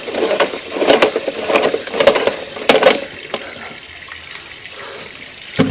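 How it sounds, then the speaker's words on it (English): Water runs and splashes through a household sewer drain line, a steady wet rush with irregular gurgles and knocks over the first few seconds, then thinning to a quieter trickle. "we need the water running to be able to see what we've got"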